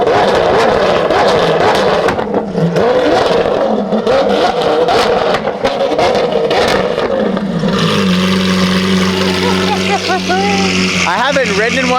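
A car engine starts and revs hard in a small cabin, a loud, steady roar that keeps going for about twelve seconds, with people talking over it.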